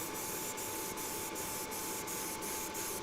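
An airbrush laying down a second coat of paint sprays in a steady, close, continuous hiss with faint regular ticks throughout, no voices.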